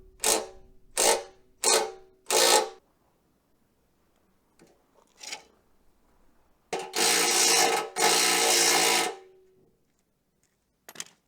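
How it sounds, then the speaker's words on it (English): Impact driver with a socket removing nuts, heard as four short close rattling bursts, then a few faint knocks, then two longer loud hammering bursts, with quiet gaps between. "Got my impact driver. Lucky enough this one lone socket fits, so I'm gonna whack the nuts off"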